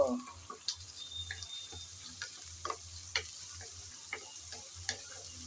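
Shrimp fry with onion and garlic in a pan while the jute-leaf dish is being cooked. A quiet, low sizzle runs under scattered ticks and stirring clicks.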